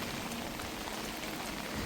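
Heavy storm rain pours down in Jaffna, a loud dense unbroken roar of falling water and splashing drops with no voices.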